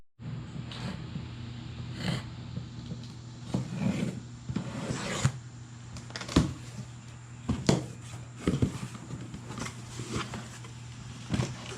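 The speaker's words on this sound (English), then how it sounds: "So let me grab a razor blade. We'll pop these boxes open." A razor blade slices and scrapes through the cardboard of tire boxes in a garage, making scattered rasping strokes and sharp scratches at close range, with no voices.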